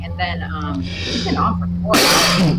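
A person sneezes loudly near the end, a sharp burst right after someone speaks over a steady low hum.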